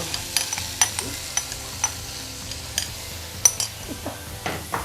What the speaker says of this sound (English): I'm going to be adding my seafood now, all right? So it's hot already. This goes in.